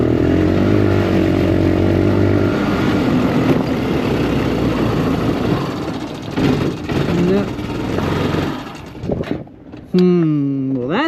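A Honda Recon ATV that sat for years in the woods sputters and surges unevenly under low and partial throttle, loud and close. The engine dips and stumbles near the end, then settles into a rougher idle.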